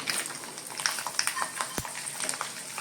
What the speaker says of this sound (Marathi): या फोडणीमध्ये मंडळी लसूण एकदम मस्त खडून खरपूस झाली पाहिजे लालसर एकदम